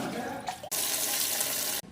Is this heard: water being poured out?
yes